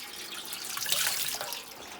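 Water runs from a barrel for garden watering, a brief soft splashing stream that swells briefly in the middle before settling back.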